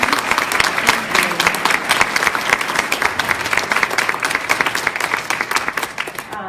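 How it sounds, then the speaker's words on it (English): An audience at a Know Your Hindu Neighbor panel event gives the panelists a round of applause: sustained, dense clapping from a room of people, loud and steady before tapering at the end. "If we can give our panelists a round of applause"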